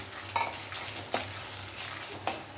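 Urad dal and peanuts roast in a pan with a steady dry sizzle, broken by several sharp scraping strokes of a stirring spoon, close and clear with no talking.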